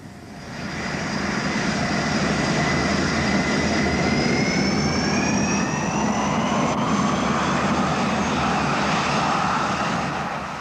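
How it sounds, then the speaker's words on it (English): Aircraft engines run steadily on a test aircraft fitted with mini wingtip wings ahead of a flutter test, a loud continuous roar with whining tones that slowly shift in pitch, holding throughout with no voices. "this aircraft is being prepared for the flutter test"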